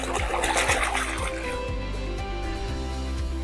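Water sloshes and trickles steadily while gold panning, a continuous close splashing and pouring with soft rhythmic swirls and no talking.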